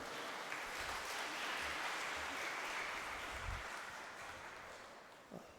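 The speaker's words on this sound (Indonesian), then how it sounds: "Tepuk tangan untuk Romo Tony dulu" Congregation applauding a priest during a thanksgiving mass, a faint, distant wash of clapping that swells and then slowly fades toward the end.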